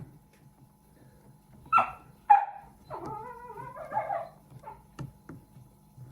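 A dog gives a few soft whimpers and yips, then a short whining vocalization, with quiet gaps between sounds.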